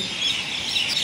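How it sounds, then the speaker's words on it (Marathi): Sparrows chirp busily in a quick, overlapping chatter in Shegaon, brief and fairly close, with no voices. "खाली आल्यानंतर चिमण्यांचा चिवचिवाट चालू होता"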